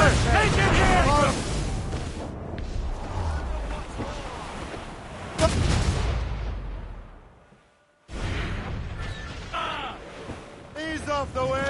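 Naval cannon fire from ships in Assassin's Creed Rogue, heavy booming blasts rolling over wind and sea surf, loud and close, with shouted crew voices over the battle and a brief drop to near silence partway through.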